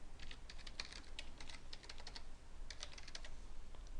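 Rapid typing on a computer keyboard while entering a server's root username and password, a close, steady stream of clicky keystrokes with brief pauses, alone without talk.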